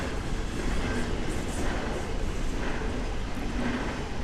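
A train passing on the Maastricht to Roermond line, a steady broad rumble and rolling rail noise that fills the whole stretch at close range, with no talk over it.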